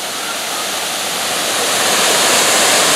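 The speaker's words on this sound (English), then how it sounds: "Again, this is Indian Falls and Owen Sound." Indian Falls waterfall near Owen Sound roars as a steady, loud rush of falling water, broad and continuous and growing slightly louder, with no voices.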